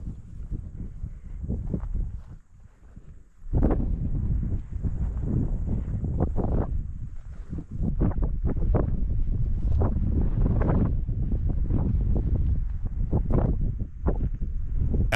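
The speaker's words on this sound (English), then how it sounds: "The wind was perfect, going strong at a south to north direction." Strong wind buffets a microphone outdoors on open public land during a mule deer archery stalk, a steady loud roar with heavy gusting rumble throughout, no voices.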